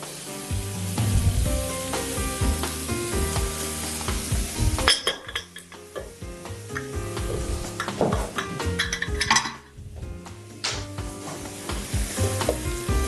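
Fresh tomato goes into a pot of Algerian chorba and sizzles loudly, with repeated stirring and the clink of a utensil against the pot throughout.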